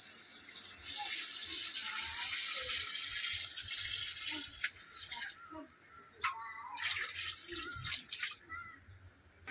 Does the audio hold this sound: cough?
no